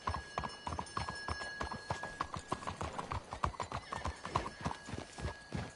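Rhythmic clip-clop of horses trotting at a steady pace in the video game Red Dead Redemption 2, fairly close, with a brief whinny and a constant faint tonal hum behind.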